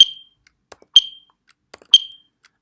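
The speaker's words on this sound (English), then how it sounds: "After you heard a beep sound, which means that the run starts again." Three short, bright electronic beeps from a visual psychophysics experiment program sound about a second apart, each crisp and close, with faint clicks between them in an otherwise quiet room.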